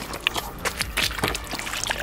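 Water splashing and trickling over freshly gathered blood clams being rinsed on a beach: short, close sloshes and pours with light clinks of shells, no talking.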